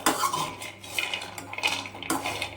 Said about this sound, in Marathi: हे शेंगदाणे आहेत ना आपल्याला मग असे भाजून घ्यायचे आणि अगदी पटकन होतात बघा